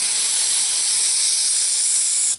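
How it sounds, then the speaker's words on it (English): Carburetor cleaner sprays from an aerosol can onto a Cub Cadet Challenger 750 lawn tractor's screen and drain plug, a loud, steady, close hiss lasting a couple of seconds before it cuts off. "clean out this um, screen and the drain plug real quick with some carburetor cleaner"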